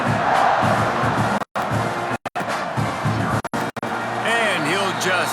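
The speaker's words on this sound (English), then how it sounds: "this crowd is buzzing after that last score" A college football stadium crowd at a Texas A&M Aggies game roars and buzzes after a touchdown, a dense steady wash of cheering with brief dropouts and voices rising above it near the end.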